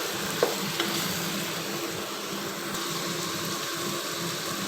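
Chicken and tomatoes sizzling steadily in a pan for a chicken kinamatisan dish, a dense continuous hiss with a couple of light utensil taps early on, close and even, no talk.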